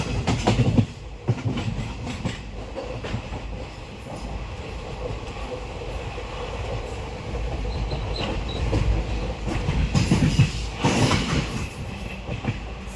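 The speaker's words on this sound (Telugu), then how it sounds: "చాలా అంటే చాలా స్పీడ్గా వెళ్తుంది ఫ్రెండ్స్ ట్రైన్" A fast express train rumbles and clatters steadily on the tracks during a night journey, with louder rattling bursts and a sustained roar throughout.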